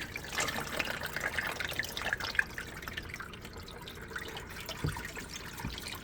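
Dirty water is poured out of an ionic detox foot bath basin, a faint, steady splashing trickle with scattered drips.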